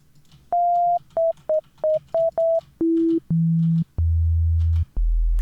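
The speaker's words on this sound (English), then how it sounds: "Just a nice little sine wave." Synthesized sine wave tones play a series of short pure beeps, then step down through longer, lower notes to a deep sustained sub-frequency tone, all alone and clean.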